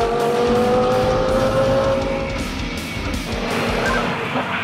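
An Audi R8 LMS race car drives hard on a track, its engine loud and close, with the revs climbing and then falling in rapid steps as it brakes and shifts down through the gears.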